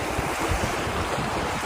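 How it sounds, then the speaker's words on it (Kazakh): Cold water rushes in a steady, loud, unbroken roar with a windy, surf-like hiss and no voices for the short stretch. "Су шуатыр."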